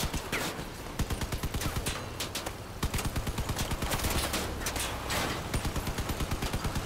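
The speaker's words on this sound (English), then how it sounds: "Four machine guns?" Several machine guns fire in the video game Crossout, rapid bursts of dense, overlapping gunfire that pause briefly and then resume in a steady rhythmic stream.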